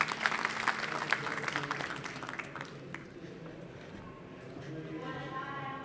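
An audience at a talk on smart cities and collective intelligence claps for a speaker. The applause is dense and steady at first, then thins out and fades, with talking mixed in.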